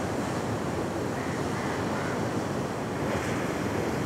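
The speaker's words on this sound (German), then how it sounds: "Hört den Wellen und dem Wind zu, den ihr jetzt vielleicht auch durch mein Mikrofon wahrnehmen könnt." Ocean surf and wind on a beach in Kerala, India, a steady broadband wash with no clear breaks, loud and continuous throughout.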